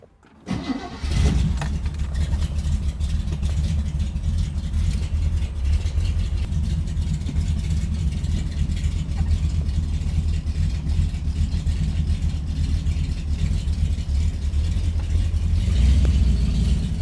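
A 1934 Ford's engine cranks and catches, then runs steadily with a loud low rumble inside the car for the rest of the drive, with no talking.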